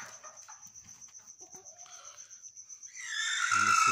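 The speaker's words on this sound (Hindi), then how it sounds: "ये मुर्गियां यहाँ दे देती है। एक बैठी हुई है अभी अंडों पर" Backyard hens cluck in soft, rhythmic pulses close by, with a steady insect-like whine behind them. A louder burst of mixed noise takes over near the end.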